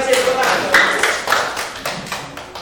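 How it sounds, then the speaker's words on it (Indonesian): Applause from meeting participants, a short burst of clapping by a small group, close and fairly loud with individual claps audible, fading slightly toward the end. "Sekali lagi tepuk tangan untuk kita semua."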